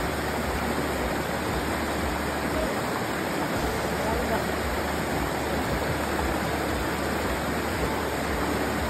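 River water rushing and flowing steadily in the Philippines where people are bathing, a broad constant wash of noise filling the whole stretch.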